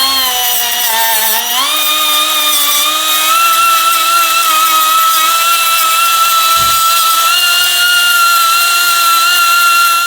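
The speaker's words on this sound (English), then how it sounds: "you just take a spot and grind both of these flat off" A power tool grinds the link pins of a motorcycle chain flat on a 2023 BMW S 1000 RR, giving a steady, loud whine whose pitch climbs slightly early on and then holds, continuous for the whole stretch.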